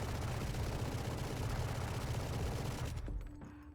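Automatic weapon fire from Valorant, a fast continuous burst of rapid shots with recoil, loud and close, running for about three seconds before cutting off into a brief quieter tail.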